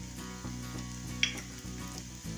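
Chopped green chillies and fine garlic sizzle steadily in hot oil with onions that are already softened. The frying is soft and close, broken by a few light stirring scrapes, with no talking.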